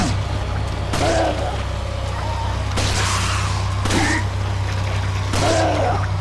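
Pistol shots in the Resident Evil 4 video game, several sharp reports spaced a second or more apart over a steady low game drone, with brief in-game voice sounds between them.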